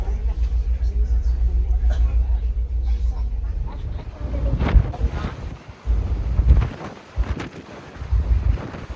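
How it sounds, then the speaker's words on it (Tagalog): Strong wind buffets the microphone on the open deck of a ferry sailing from Vancouver to Victoria, British Columbia, with a steady low rumble and gusty surges throughout. "Kaya windy nga lang dito guys."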